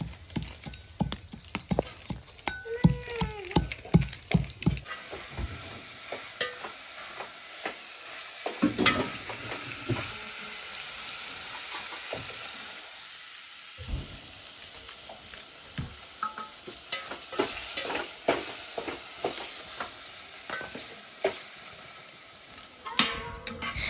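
Gunda vegetable curry sizzles and fries in a pan while being stirred, bursts of scraping and clattering stirring early on giving way to a steady hiss of frying with intermittent utensil knocks.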